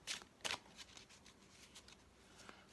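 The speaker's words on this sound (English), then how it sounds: "Give these a shuffle up." Tarot cards being shuffled close by, a quick riffling burst followed by softer intermittent flicks and shuffles.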